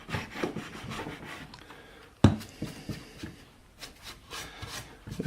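A router plane scrapes a wooden half lap joint flat in repeated close rasping strokes, with a sharper knock partway through, and no one speaks.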